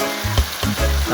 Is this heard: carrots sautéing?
yes